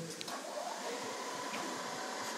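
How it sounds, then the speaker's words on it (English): A Bridgeport EZ Trak milling machine with a quick-switch spindle spins at about 3,500 RPM, giving a steady, fairly quiet broadband whir with a faint tonal hum that holds evenly throughout. "That's the spindle."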